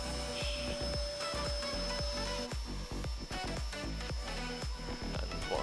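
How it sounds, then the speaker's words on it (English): A vacuum cleaner hoovers out the inside of a Citroen Berlingo van during a micro camper conversion, a steady loud drone with repeated knocks and bumps as the nozzle moves around. "while Nathan's hoovering up"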